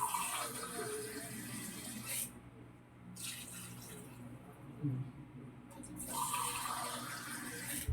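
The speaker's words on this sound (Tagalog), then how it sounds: "Tutubigin na natin, lalagyan natin ng sabaw yung manok natin." Water runs steadily into a cooking pot of chicken wings for soup, pausing briefly twice before resuming, with faint background noise.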